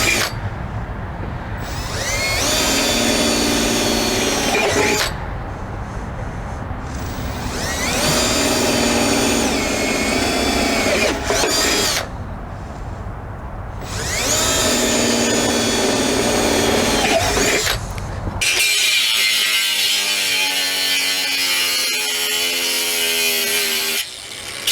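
A power drill drilling metal on a car grinds loudly and up close in three long bursts with short pauses, then settles into a steady, higher-pitched whine.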